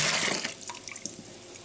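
Yeast starter being poured into apple juice for cider, a steady splashing liquid pour that starts strongest and tapers slightly over a short moment, with no talking.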